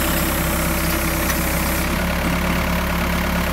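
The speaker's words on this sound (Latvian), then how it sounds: "Traktora riteņi griežas uz vietas" A tractor fitted with a tree-digging jaw, its engine running at a steady, even mid-to-low drone while the wheels spin in place, close and continuous.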